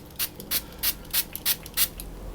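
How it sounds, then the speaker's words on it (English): Spray bottle misting water onto pieces of bread dough for Vietnamese-style baguettes, seven quick hissing squirts in a steady rhythm, close and crisp. "I'm actually going to spray water onto the top of"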